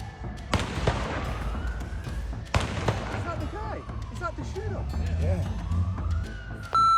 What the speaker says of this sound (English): Gunshots echo across Bondi Beach as people flee in all directions.